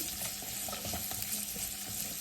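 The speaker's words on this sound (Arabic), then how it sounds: "كمان نقلبهم مظبوط مع البصل والثوم" Bell peppers fry with onion and garlic in a pan, a constant close hiss of sizzling oil broken by soft stirring clicks and scrapes.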